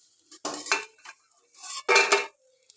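Crisp fried bitter gourd chips are lifted from a frying pan, giving two short bursts of dry clattering and scraping from a utensil against the pan, with quieter taps in between.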